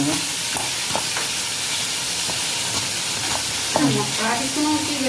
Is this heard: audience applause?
no